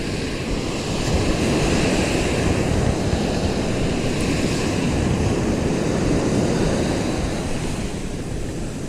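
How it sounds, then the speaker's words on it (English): Rough surf breaking on a sandy fishing beach, a loud continuous roar of waves with heavy wind buffeting the microphone, no voices over it. "the surf's a lot rougher than it was last time"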